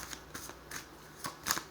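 Tarot cards shuffled by hand in short riffling bursts, a handful of crisp papery flutters spaced irregularly with quiet gaps between, close and fairly soft.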